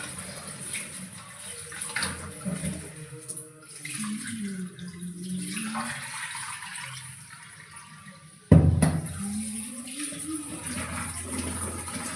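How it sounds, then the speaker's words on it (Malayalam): Running water splashes steadily as papaya and taro are rinsed, with a sudden louder clatter partway through before the washing sound resumes. "കപ്പളങ്ങയും ചേമ്പും കൂടെ കഴുകിയെടുക്കുന്നുണ്ട്"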